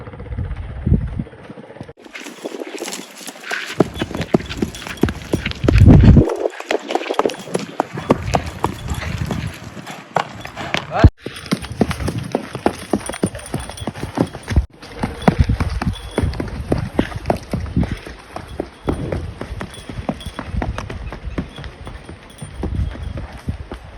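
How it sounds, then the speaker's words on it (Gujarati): Horse hooves thudding and clattering on the ground as the horse runs and jumps, a busy irregular rhythm with voices and outdoor noise around it. "અમારો ઘોડો કેવો કૂદે છે"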